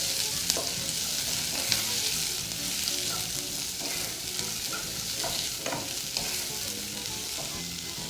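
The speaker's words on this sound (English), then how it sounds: "just continue frying till your onions start to get translucent" White onions sizzling and crackling in a hot pan, a constant hiss with occasional scrapes and pops of stirring.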